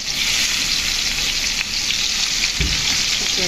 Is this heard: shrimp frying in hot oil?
yes